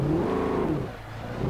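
Car engine in the Alan Wake video game, driven on an icy, slippery road, a steady mid-pitched hum that rises in revs, then dips and swells again over a brief stretch, with no talking.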